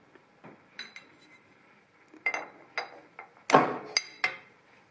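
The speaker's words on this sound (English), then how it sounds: "Little tap on the spanner" A few sharp metallic taps of a spanner tightening an old, worn Clarkson Autolock collet chuck with a milling cutter, several distinct clinks spaced over a few seconds in a quiet workshop.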